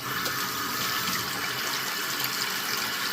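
Water runs steadily from a tap into a sink drain, a continuous close hiss and splash with no pauses.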